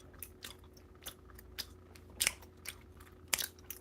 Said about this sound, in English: The more I chew gum, the more I blow bubbles.